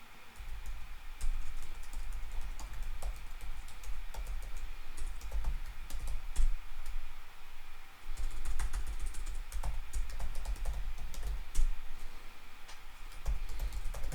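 Computer keyboard typing continues steadily for about fourteen seconds to enter an email sign-in for a Microsoft account on a Nintendo Switch 2, the key clicks close and fairly even with a short pause near the middle and no voices.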